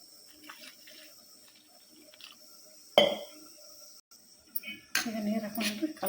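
Water is poured into flour for aloo paratha dough: faint trickling, then a sudden splash, and later a louder, steadier run of pouring and sloshing near the bowl.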